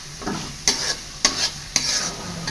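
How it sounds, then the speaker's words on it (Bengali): Jackfruit seeds fry in a pan of cooked-down spices with a continuous close sizzle, cut by three distinct scraping stirs spaced about half a second apart. "কাঁঠালের বিচি আমি সুন্দর মতন কষাই নিই।"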